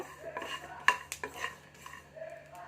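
Urad dal roasting in a pan gives small crackling pops and clinks of a spoon against the pan, light and scattered, close by with no talk.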